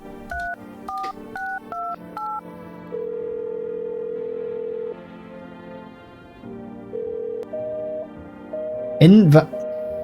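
A video game phone keypad beeps through a quick run of dialing tones, followed by longer sustained tones and a brief warbling sound near the end.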